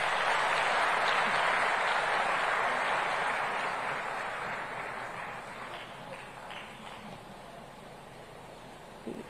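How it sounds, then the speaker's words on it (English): Audience applause at an African food systems forum as honoured guests return to their seats, a dense, steady roar of clapping that gradually fades toward the end. "let's give them a fantastic round of applause"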